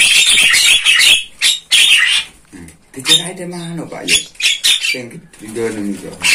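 Caged jalak starlings chatter and squawk in close, busy bursts of harsh calls and whistles, with short pauses between rapid flurries.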